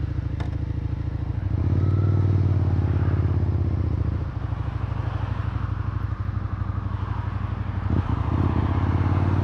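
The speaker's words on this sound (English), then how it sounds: "I do like the sound of that exhaust." Suzuki SV650 motorcycle exhaust while riding, a close, loud, steady engine drone that swells around two seconds and eases after four, with brief clicks and wind rumble throughout and no talk.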